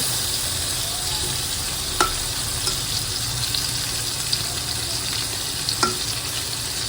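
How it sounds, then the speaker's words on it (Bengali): Fish sizzles in hot oil in a pan, a steady, dense frying hiss with a few faint clicks and scrapes of a utensil now and then. "মাছটা এখন ভেজে দেবো"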